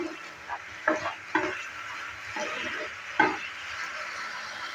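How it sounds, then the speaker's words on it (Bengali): A spoon stirs squash bori ghanto in a pan, giving a few soft scraping strokes and faint sizzling at close range with quiet gaps between them. "তুলে নেওয়ার পর আবারও ভালো করে একটু মিক্স করে নিচ্ছে।"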